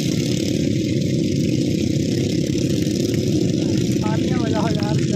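Several Royal Enfield Bullet motorcycles circle together, their engines making a continuous loud, dense thumping drone at close range, with a brief whistle-like warble near the end.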